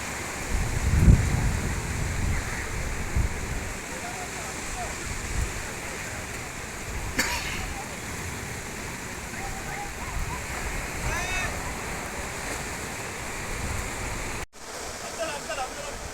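Sea waves at a beach give a steady, broad roaring wash that continues through the whole stretch, with faint muffled voices now and then.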